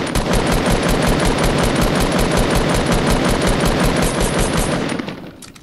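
Rapid automatic gunfire from the video game Fortnite, a loud, continuous stream of shots with a steady rhythm that runs for about five seconds before cutting off abruptly.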